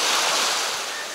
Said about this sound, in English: I'm sorry it's so loud, but that's the ocean.